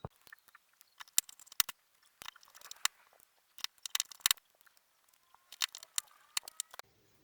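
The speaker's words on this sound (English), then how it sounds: "the first thing I'll start screwing down is the subboard, which contains 4 screws" Four small screws are driven into the subboard of a Samsung Galaxy S9 during a screen and frame replacement. Sparse, sharp little ticks and clicks from the tool and metal parts come in uneven clusters, quiet and close.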